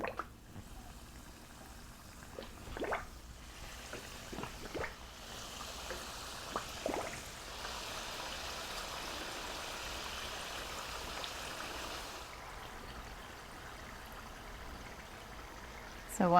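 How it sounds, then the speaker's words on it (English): Cannoli shells fry in hot canola oil in a large cast iron skillet with a soft, steady bubbling hiss that swells for a few seconds midway. A few faint knocks come through. "I've got my large cast iron skillet with some canola oil. It's nice and hot, so I'm going to start to fry up these shells."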